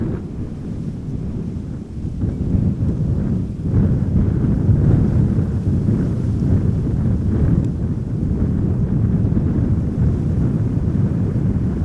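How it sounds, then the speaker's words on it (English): Wind of about 11 knots from the south buffets an outdoor live-stream microphone at Amsterdam Schiphol Airport, producing a steady, heavy low roar and rumble that swells slightly and continues throughout without talk. "sounds a bit windy. It is a bit windy."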